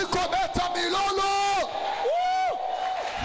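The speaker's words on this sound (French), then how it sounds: "Est-ce que tu peux encore pousser les cris de joie?" A church congregation shouts joyful cries and whoops at a worship service, a dense crowd of raised voices rising and falling together at close range, loud and sustained for a few seconds.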